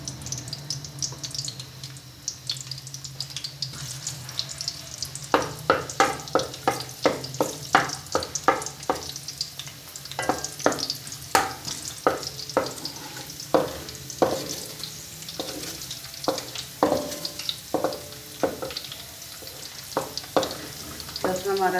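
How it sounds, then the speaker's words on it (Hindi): Garlic fries in a pan for dhaba-style chana dal, with a steady close sizzle broken by a quick run of scraping stir strokes against the pan, rhythmic and fairly loud, with no talking. "लहसुन हमारा लाइट ब्राउन हो चुका है।"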